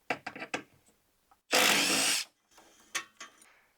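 A 10 mm parking brake bolt being removed on a 2008 Ford Mustang: a few quick metallic clicks, then one loud burst of a power tool lasting under a second, followed by scattered clanks.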